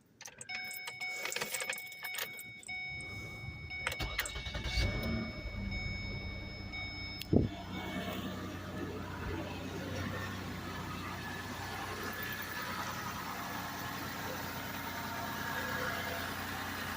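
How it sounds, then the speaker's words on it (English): The 3.0-liter engine of a 2009 Ford Escape cranks briefly and then settles into a steady idle. It is heard at a low, even level after an oil change, with some faint clinks at first and no voices. "we're going to go crank the engine up real quick"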